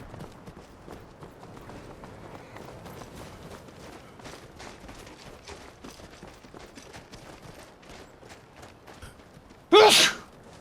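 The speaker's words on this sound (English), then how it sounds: "I had to sneeze." A single sharp, loud sneeze bursts out near the end, standing above a faint, busy background of game sounds.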